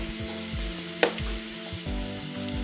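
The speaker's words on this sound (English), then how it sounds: "I want to use this to fry the onions while the spätzles are in the oven" Onions fry in a pan, a steady moderate sizzle with a sharp clink near the start, while a low rhythmic hum runs underneath.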